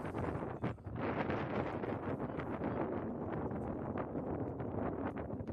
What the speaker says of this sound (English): this wind's really kicking up